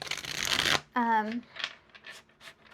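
Wild Reflections tarot cards are shuffled in a quick riffling burst lasting under a second, close and crisp, followed by a voice speaking and a few softer card rustles in between.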